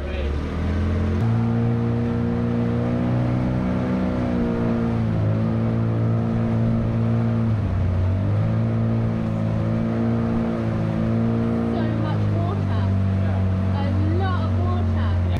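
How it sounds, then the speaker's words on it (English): A fast boat ferry crosses flooded water in Malaysia with a loud, steady engine drone that shifts pitch as it speeds up, while people talk over it. "So we're going to get the boat over to the other side. Oh, it's very fast."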